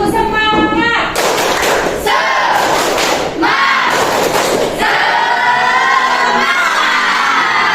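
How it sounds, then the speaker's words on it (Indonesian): An Indonesian school class performs a rhythmic spirit clap, with bursts of clapping and thumps mixed with children's voices chanting and shouting along; loud, lively and continuous throughout. "Yuk, tepuk semangat ya, bisa ya?"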